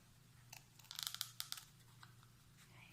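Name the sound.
cutting out a shamrock petal shape, likely with scissors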